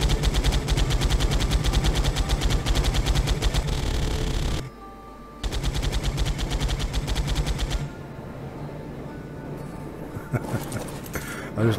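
Miniguns mounted on a titanosaur platform in Ark Survival Evolved fire in long, loud, continuous bursts of rapid gunfire, briefly cutting out before resuming, then trailing off into quieter scattered shots.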